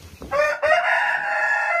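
A Brahma rooster crows once, loud and close, in a chicken coop after a few soft clucks, with the crow held steady to the end.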